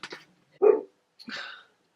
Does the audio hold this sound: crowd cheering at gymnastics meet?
no